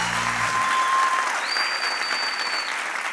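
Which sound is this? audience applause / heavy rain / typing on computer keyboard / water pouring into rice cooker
audience applause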